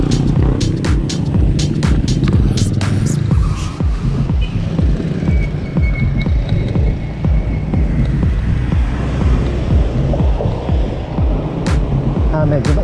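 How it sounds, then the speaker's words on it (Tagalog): Strong wind on Maragondon Bridge buffets the microphone in loud, continuous gusts, with road traffic noise rushing underneath and occasional sharp knocks. "Malakas ang hangin sa Maragondon Bridge."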